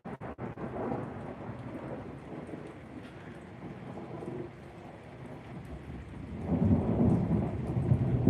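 Thunder rolls through a rainstorm, with deep rumbles swelling near the start and again toward the end over a steady wash of falling rain.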